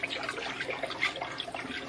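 Continuous close sloshing and gurgling as water is stirred inside a toilet tank to mix in dye, with small irregular splashes throughout and no talking.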